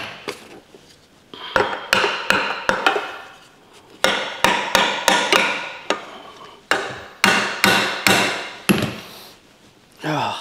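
A hammer strikes a bolt being used to pry a part off a 1956 rototiller engine, giving loud, sharp metallic blows in quick irregular bursts with short pauses between them.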